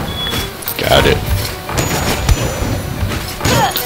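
Cannon enemies firing in the castle of the video game Rogue Legacy, a few sharp booming shots and thuds spread through a busy stretch of game sound effects.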